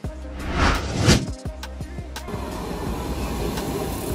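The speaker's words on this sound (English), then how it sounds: "Regional trains are passenger trains that connect cities and towns within a specific region." A regional passenger train passes close by: a rising rush and whoosh, rhythmic wheel clicks over rail joints, then a steady rumbling roll as the carriages continue past.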